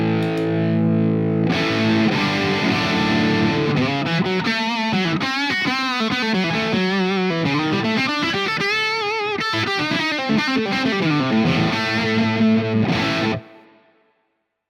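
An electric guitar played through a Laney Ironheart Foundry Loudpedal set to dark mode: heavily distorted, sustained chords and riffs at a steady loud level for about twelve seconds, then cut off abruptly.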